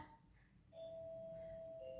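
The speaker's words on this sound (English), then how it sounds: "The doorbell's going" A doorbell sounds as a single sustained electronic tone, faint and indoors, starting partway through and holding to the end.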